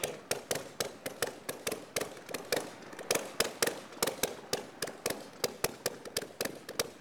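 A rapid series of sharp popping bangs, several per second and fairly steady, from a vintage motorcycle engine running very rich and backfiring with flames from the exhaust, close and loud.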